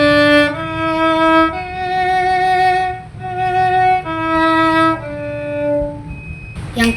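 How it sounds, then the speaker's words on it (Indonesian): Sustained violin notes played with vibrato, each long bowed tone wavering steadily, several phrases in sequence, loud and close with no other sounds. "Tidak hanya di vokal, di violin juga ada vibrato."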